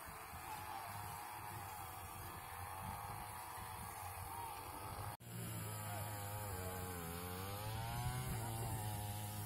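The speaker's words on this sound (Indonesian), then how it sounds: "ada yang membersihkan rumput dengan menggunakan mesin potong rumput" A motorized grass cutter drones steadily nearby during a cleanup at a Catholic church in Tana Toraja, its engine pitch wavering and revving, with a brief cut partway through.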